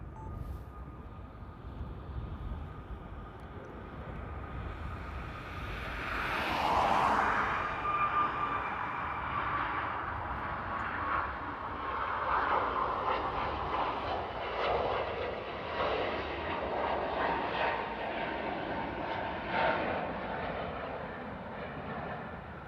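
A Gulf Air airliner departs Paris Charles de Gaulle: a broad jet roar that swells sharply around the midpoint and then holds as a steady, rumbling wash, with no voices.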